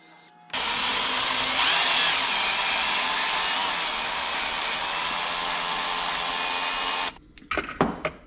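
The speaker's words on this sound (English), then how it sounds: "I just have the clutch set really loose on the drill so I don't break the tap." A power drill with its clutch set loose whirs steadily for about six seconds while tapping threads on a Toyota Land Cruiser 80 Series downpipe, then cuts off, followed by a few metallic clicks and taps nearby.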